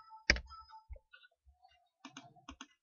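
A computer keyboard in a quiet room: one sharp key press near the start, then a few scattered softer clicks and a quick cluster of taps toward the end.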